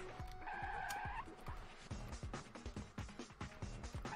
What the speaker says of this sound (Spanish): Derrape por aquí, derrape por aquí